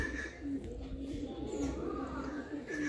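A Madrasi pigeon cooing nearby, a few soft low coos repeating through a few seconds over a steady background murmur.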